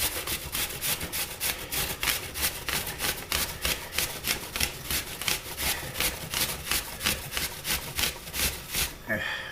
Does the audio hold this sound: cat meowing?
no